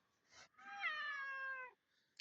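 A domestic cat gives one drawn-out meow, quiet but clear, lasting about a second and a half after a short breathy sound, with no speech over it.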